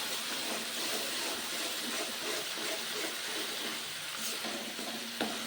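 Green chilli, cumin and tomato spice paste frying in oil, a steady dense sizzle with faint stirring underneath and a couple of light knocks near the end.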